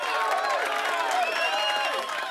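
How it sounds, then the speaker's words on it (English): A conference audience at the 3DEXPERIENCE World 2022 general session cheers continuously, with many overlapping whooping voices filling the space at a steady level. "I love this audience cheering all in the background"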